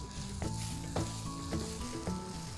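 Spring onions stir-fried in a wok for chicken chow mein, a constant loud sizzle broken by four evenly spaced metallic scrapes of the spatula.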